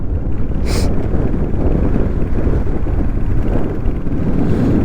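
Strong, cold mountain wind on the Kagbeni road toward Muktinath, Nepal, roars steadily against the microphone, a dense, continuous low rumble with buffeting gusts that never lets up.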